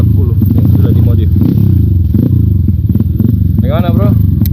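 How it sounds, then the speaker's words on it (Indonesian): Modified Galaxy 140 motorcycle engine revving loudly and close on a motocross trail, a steady buzzing roar throughout with a voice talking over it. "Dia menggunakan motor Galaxy 140 yang sudah dimodif."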